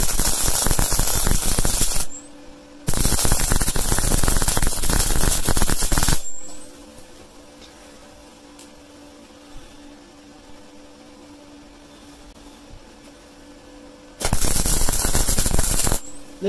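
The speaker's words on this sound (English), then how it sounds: "This welder is doing the biz" Steel being arc welded on a DIY dual SmartDrive wind turbine, loud crackling buzz in two long bursts with a short gap, then a quiet hum before a third burst starts.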